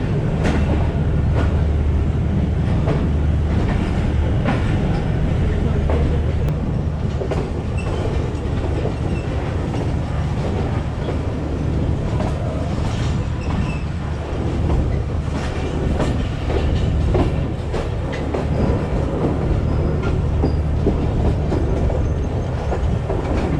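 The 45UP Pakistan Express passenger train runs between Multan and Rawalpindi, producing a loud, continuous rumble with steady clickety-clack of wheels on rail joints throughout, without voices.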